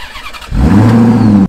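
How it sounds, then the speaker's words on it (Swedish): A Maserati GranTurismo S V8 engine cranks and fires up partway through, bursting into a loud, close, deep rumbling idle that holds steady before cutting off abruptly. "Så nu ska starta motorn och ut och åka"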